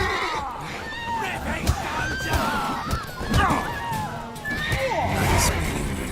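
Horse neighing in The Witcher 3: Wild Hunt: several shrill, quavering whinnies rise and fall among shouting voices and commotion, close and loud.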